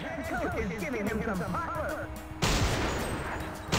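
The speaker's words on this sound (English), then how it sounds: "No, stop shooting at me." Enemy gunfire in the PS2 light-gun game Silent Scope, played on the PCSX2 emulator, with a dense harsh burst of shots in the second half and busy game sounds and a voice before it.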